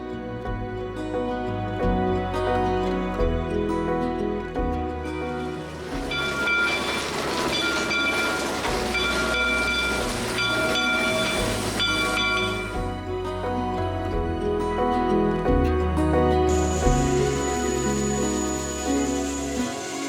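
The Cass Scenic Railway steam train in West Virginia rolls along with a steady, continuous rumble and long sustained tonal notes rising and falling over about twenty seconds.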